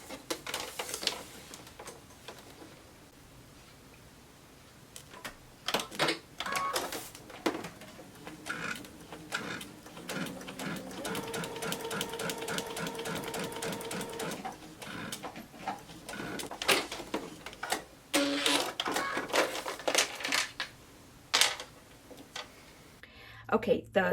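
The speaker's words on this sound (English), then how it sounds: "So I am now sewing this line right here." Sewing machine stitching a seam on a quilt block, a steady rapid mechanical patter in the middle of the clip, with quieter stops and starts and a person talking around it.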